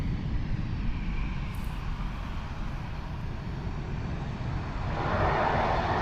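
A Bombardier airliner taking off or landing at Toronto Pearson Airport gives a steady, broad engine roar, heard from a distance without speech, swelling with a brighter rush near the end.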